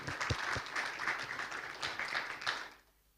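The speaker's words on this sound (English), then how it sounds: "Round of applause for Patrick" An audience at a human capital summit claps in a brief round of applause lasting under three seconds, then it fades quickly into quiet.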